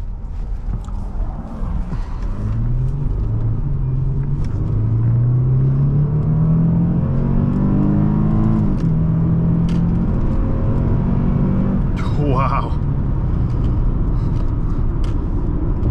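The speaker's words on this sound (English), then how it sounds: "Some work from this engine." A 2007 Lexus GS350 AWD engine pulling hard under acceleration from inside the cabin, a loud rising drone that climbs steadily through the gears, then a brief sharper rush near the end.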